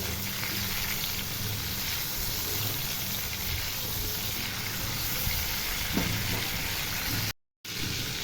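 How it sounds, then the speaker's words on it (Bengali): Shrimp frying in oil in a wok make a continuous, dense, fairly loud sizzling hiss with faint stirring clicks, briefly cut to silence near the end, and no speech. "মাছগুলো ভালো করে ভেজে নেব"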